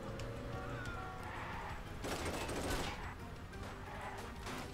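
Bursts of gunfire while driving in the video game Wheelman, a rapid crackling volley dense and sustained through the middle of the clip, mixed with car and game background noise at low level.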